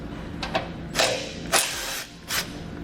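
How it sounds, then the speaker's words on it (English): A socket wrench fitted with a 15mm socket loosens nuts on the impact beam of a 2017 Tesla Model, producing several short ratcheting clicks and mechanical bursts close by, spaced irregularly. "We're using a 15mm socket to remove these nuts."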